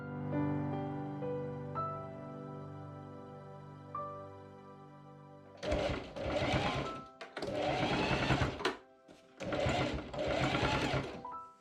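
A sewing machine stitches a bias strip onto the top edge of a corset modesty panel, running in three loud, steady bursts separated by short pauses, after a quiet tonal stretch at the start.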